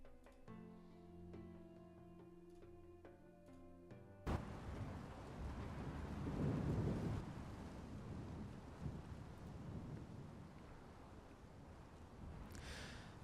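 A deep, dull rumble of thunder rolls in under an overcast sky, starting abruptly after a soft musical passage and swelling into a long, broad roar that slowly fades, with steady windy, rain-like noise beneath it.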